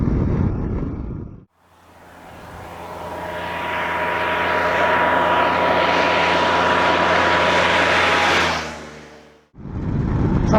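An adventure motorcycle cruises in 6th gear at 60 mph and about 3,100 RPM on a bumpy road, giving a steady, loud engine and wind drone that swells and then fades away.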